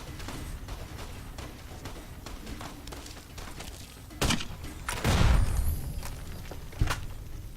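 Gunfire and a grenade blast in the video game Fallout: New Vegas: a steady spatter of shots gives way to a loud, low explosion near the middle, followed by a few sharper reports.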